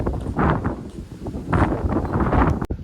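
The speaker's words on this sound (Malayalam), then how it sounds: "ഈ കാറ്റ് മാത്രമുള്ളൊരു പ്രശ്നം, നമ്മൾ പറയുന്നത് ശരിക്കും കൊണ്ട് കിട്ടുകയില്ല കാറ്റ് കാരണം" Wind blows hard across the microphone at the Amappara hilltop viewpoint near a watching tower, a close, continuous gusty rumble with no one speaking.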